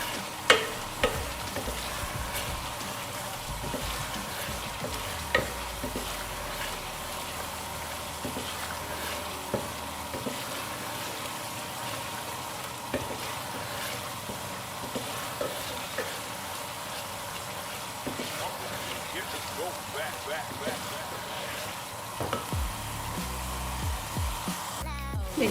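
Onion and ginger masala with green chilies sizzles in ghee in a pan while being stirred, a steady crackling fry broken by frequent scraping and clinking of the spoon against the pan.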